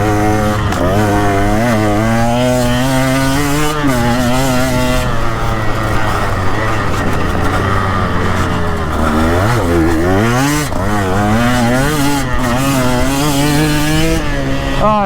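A KTM EXC 150 dirt bike ridden hard around an enduro GP sprint track, its engine loud and close, buzzing and rising and falling in pitch as the throttle works on and off through the lap.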